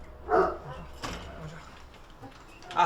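A house dog gives a few short barks and yips, one at the start and another at the end, with a faint whimper between, close by and loud against a quiet room.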